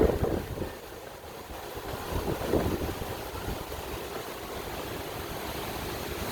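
Tropical storm Nicole gusts at Disney's Caribbean Beach, buffeting the microphone with low rumbling wind, strongest at the start and again around the middle, then easing into a constant roaring rush with no talk.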